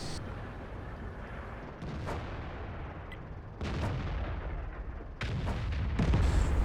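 Tank cannons fire in a tank battle video game, several heavy booming shots a second or two apart over a constant rumbling background, each blast sudden and loud, with no speech.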